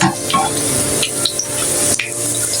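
Breaded chicken nuggets fry in a pan with a steady, close sizzle, broken by a few soft scraping and stirring clatters against the pan.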